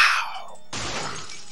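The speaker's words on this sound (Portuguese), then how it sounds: "Barulho que você bate, pisa no vidro." Glass shatters underfoot in the PS2 survival horror game Clock Tower 3: a loud, sharp crash that rings briefly, then gives way to a softer scattering of debris, with no talk.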